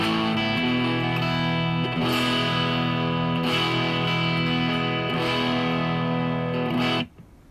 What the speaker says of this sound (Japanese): ペダルで一番歪みとして使いやすいのがこれぐらいの音だと思います。